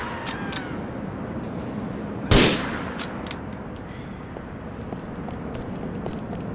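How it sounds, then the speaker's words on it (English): A single sharp gunshot cracks out once in Grand Theft Auto IV, loud and sudden, against a steady background of game ambience. "I'm just shooting."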